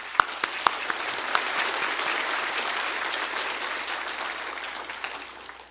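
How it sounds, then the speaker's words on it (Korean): A church congregation at a Yeouido Baptist Church Easter dawn prayer service applauds to welcome the pastor, opening with a few distinct claps that swell into sustained crowd clapping before tapering off. "감사합니다 혹은 격려의 의미로 박수로 한번 환영하겠습니다"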